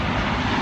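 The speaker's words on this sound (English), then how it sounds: "look, the plane." A fixed-wing airplane flies over near JFK airport, a broad steady engine roar filling the short stretch at close, loud range.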